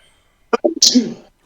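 A single sharp sneeze bursts out close to the microphone, a quick inhaled catch followed by a loud explosive release that tails off, in a quiet room.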